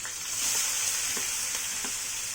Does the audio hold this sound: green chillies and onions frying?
yes